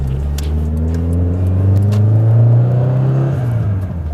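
An 800 hp Subaru STI with an APS exhaust accelerates from inside the car, its deep engine drone rising in pitch through the revs and then easing off.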